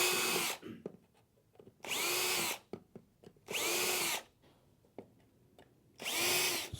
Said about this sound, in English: It's advisable to drill a pilot hole for those